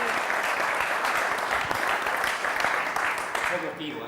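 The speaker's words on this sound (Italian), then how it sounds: "live perché voleva un applauso tutto speciale" Studio audience applause greets a guest's entrance on an Italian live show, a dense, steady wash of clapping that holds for several seconds before easing slightly at the end.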